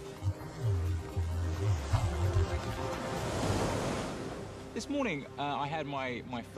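Ocean surf at a beach where a beginner surfer takes a first lesson: a steady broad rush of breaking waves fills the clip, with low musical tones and someone talking over it toward the end.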